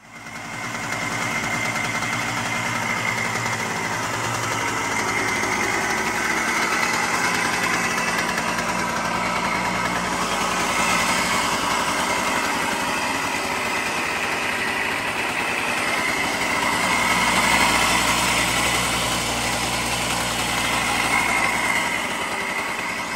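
A 1975 Harley-Davidson SX250 motorcycle engine idles steadily nearby, giving a continuous buzzing drone with slight wavers in pitch and no talk over it.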